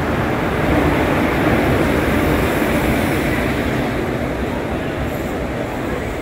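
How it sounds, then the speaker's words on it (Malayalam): Guruvayur Chennai Egmore Express rolling into a station platform, a loud continuous rumble and rushing roar that holds steady throughout, close by, with no clear speech over it. "ഇതായിരിക്കും നമ്മുടെ ട്രെയിൻ."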